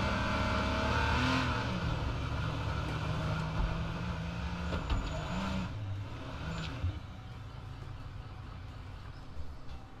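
Police car engine driving in the video game H1Z1, a loud continuous motor drone with shifting revs and changing pitch throughout, no speech over it.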